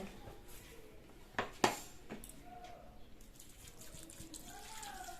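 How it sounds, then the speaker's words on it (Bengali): A couple of sharp clunks are followed by a soft trickle as water is poured into a cooking pot, quiet and close, with faint background noise after. "আর দিয়ে দেব জল"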